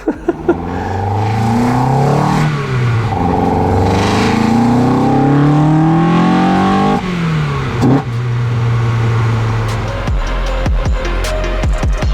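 A Ford Manta engine with individual throttle bodies revs hard and close, rising and falling through several throttle sweeps with a raspy intake roar, then settles to a rumbling idle.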